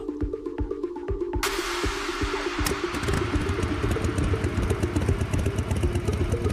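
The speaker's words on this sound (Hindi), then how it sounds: "देविका ने अपनी बाइक पार्क की और सीधा अपने घर में घुस गई" A motorcycle engine runs with a steady putter that rises into a louder, rougher clattering idle as the bike pulls up and is parked.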